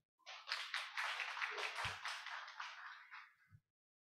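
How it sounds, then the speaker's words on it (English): A small audience at a business summit claps for a speaker, a short burst of scattered hands lasting about three seconds before stopping, fairly faint. "let's give a round of applause for Ibu Huda."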